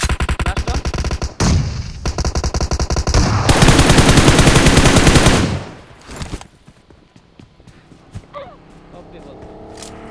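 A bot firing in a shooting video game: rapid bursts of automatic gunfire, loud and close, then a long sustained barrage before the shots stop and quieter game sounds follow.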